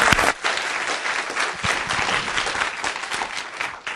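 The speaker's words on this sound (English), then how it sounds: "Big round of applause for them." A crowd at a startup demo day breaks into steady, dense applause that holds at full strength for several seconds with no break.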